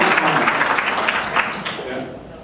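A speech audience gives a brief, lukewarm round of clapping, a steady wash of hand claps that thins out toward the end, with some voices mixed in.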